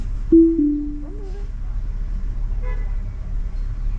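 A single short car horn toot near the start, then steady low road rumble inside a moving car with a brief faint voice-like sound later.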